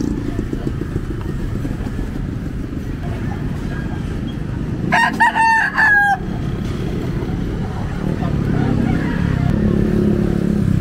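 Fighting roosters at the Bocaue pet market crow once in a clear, mid-distance burst of about a second, rising above a steady bustle of market crowd noise and passing traffic.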